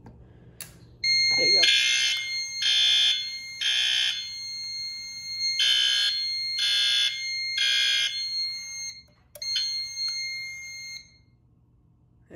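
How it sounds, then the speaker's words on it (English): A smoke detector is tested with a magnet and sounds a loud, close electronic alarm in a repeating pattern of three pulses, a pause and three more, followed by short reset beeps. "try the smoke detector."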